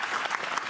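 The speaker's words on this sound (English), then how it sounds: "Give him a round of applause for the question." An audience claps for a question asked during a university talk on working with and managing creatives. The applause is brief, dense and fairly close, filling the short clip.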